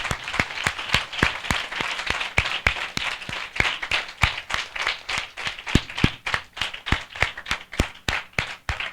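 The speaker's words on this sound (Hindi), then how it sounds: "हम जोरदार तालियों से उनका स्वागत करें।" An audience applauds warmly at a spiritual assembly, a dense burst of clapping that swells and fades in waves, fairly close, with no voices over it.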